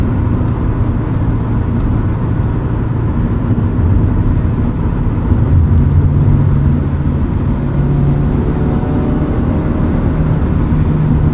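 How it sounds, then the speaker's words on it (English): A 2022 Subaru BRZ drives over rough pavement and potholes, its cabin filled with a loud, steady low road and engine rumble. Only faint thumps break the drone and no one talks. "We'll hit some potholes up here and I'll show you guys what that's like"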